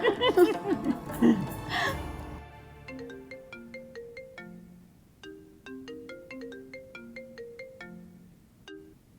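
A phone rings before a call is answered, a repeating electronic melodic ringtone heard clearly after a few seconds of laughter and talk at the start.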